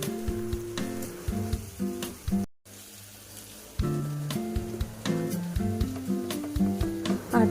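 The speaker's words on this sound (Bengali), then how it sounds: "তেলের মধ্যে আলু আর গাজরটা দিয়ে আমি একটু ভালো করে নাড়াচাড়া করছিলাম" Potatoes and carrots sizzle in oil while being stirred. Spatula scrapes and clatter sound close against the pan, with a brief dropout partway and a louder, continuous frying hiss afterward.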